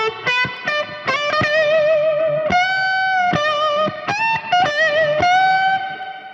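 Electric guitar played through a blackface amp with reverb: a run of clean, ringing single notes and bends with distinct attacks, sustained tones washing into reverb tails, loud and close with no talking.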